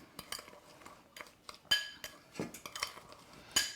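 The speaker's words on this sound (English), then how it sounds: "So I'm going to just stir that up here." Spoon stirring a melted mixture in a dish, with light scraping and a series of small clinks and taps against the dish, close and quiet with no talking.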